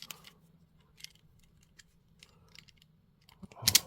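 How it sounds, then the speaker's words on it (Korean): Insulation being stripped from an electrical wire for a crimp terminal, giving small scattered snips and scraping ticks, then a louder burst of handling noise at the end, with no talk. "일단 요거를 조금 더 길게 벗겨 볼게요."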